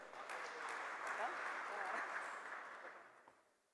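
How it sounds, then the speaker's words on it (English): Applause from the audience at a national convention session, a broad steady wash of many hands clapping that holds for several seconds and then gradually fades away. "please give him a big round of applause"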